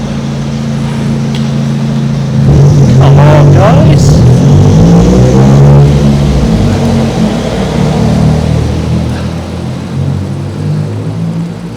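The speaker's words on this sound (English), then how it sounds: "Look at this traffic" Town-centre road traffic in Shrewsbury rumbles close by, with a heavy vehicle's engine swelling loudly midway before easing off, while a person talks briefly over the steady street noise.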